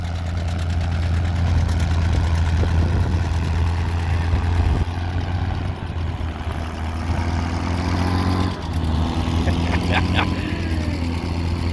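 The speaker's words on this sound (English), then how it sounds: "Oh yeah, good sounding gas tractor." A gas tractor engine idles and runs steadily at an outdoor plow day, a deep low rumble close by with a voice talking over it.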